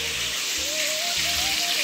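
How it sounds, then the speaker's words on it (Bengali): Oil for a pithe chorchori dish hisses and bubbles in a cooking pan, a dense, steady, close sizzle with a faint voice-like tone drifting underneath. "আবার তেল বজবজ করছে।"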